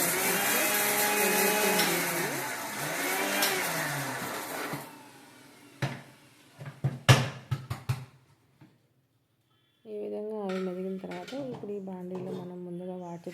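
A kitchen mixer grinder runs in a steady whir for several seconds grinding ginger pieces, then gives a few short pulsed bursts followed by silence, and someone speaks afterward.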